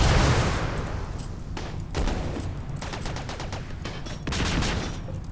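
In the video game RimWorld, rapid gunfire rattles at a turret in several ragged bursts, with crackling volleys flaring up and dying back between short lulls.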